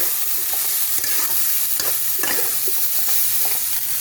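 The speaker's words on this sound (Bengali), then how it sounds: "এটা ভালো করে আমি একটু কষিয়ে নেবো মশলাটা" Spice masala with green chillies being sautéed for a cauliflower curry, with scraping stirs and soft sizzling in a steady, close rhythm and no voices.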